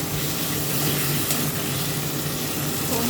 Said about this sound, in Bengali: এবারে আমি টমেটো কুচি দিয়ে দেবো